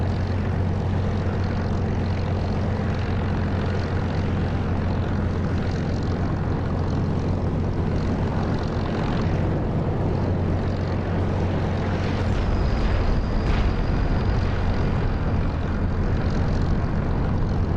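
A Spitfire's piston engine roars through takeoff in the DCS flight simulator, a loud, steady propeller drone that swells slightly toward the end as power builds.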